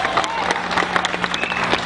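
Church crowd at a memorial park gathering claps in a brief, busy burst of applause with some cheering mixed in, fairly close and lively.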